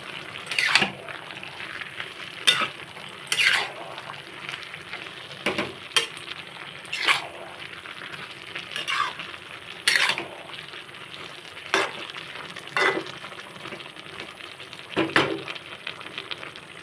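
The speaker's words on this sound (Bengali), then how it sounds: "এখন ভেজে রাখা চিংড়িগুলো দিয়ে দেবো একটু নেড়ে দেবো" Fried prawns being stirred into an ash gourd curry, with a spatula scraping and clanking against the pan in irregular bursts over a low bubbling sizzle, close up and without voices.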